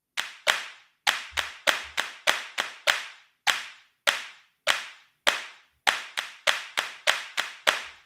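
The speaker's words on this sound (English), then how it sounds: "Let's go back in here and put the claps up." Crisp hand claps from MusicFirst Elementary music software play back in a rhythmic pattern, about twenty sharp, isolated hits in groups with short gaps between them, heard clean and alone.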